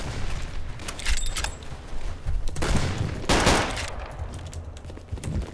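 Full-auto STG-44 gunfire in the Roblox game Unit 1968: several sharp, loud bursts of rapid shots crack out close by amid ongoing battle noise, with denser volleys near the start and middle.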